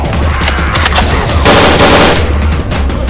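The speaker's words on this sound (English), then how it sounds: "This shotgun feels right." Shotgun fire from the Left 4 Dead 2 Gun Game mutation, loud, dense and continuous, with blasts overlapping into a sustained burst of gunfire across the whole clip.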